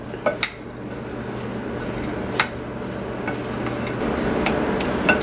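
Pineapple and cherries being stirred into a Jamaican-style carrot and raisin fruit salad, with sparse clinks of a utensil against a bowl over a low, steady background hum.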